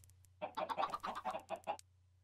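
Chickens in the game Minecraft cluck in a quick string of about ten short, close calls lasting under two seconds over a steady low hum, with no talk.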